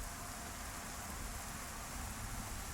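Steady, dense rain hiss from the video game Arma 3 fills the whole stretch, an even broadband patter with no voices or breaks.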